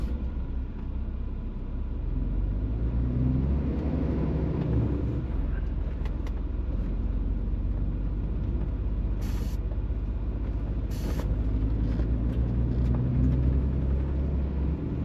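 A UK truck pulling away from traffic lights, with a steady, loud low engine rumble throughout and a couple of brief hissing bursts like air brakes partway through.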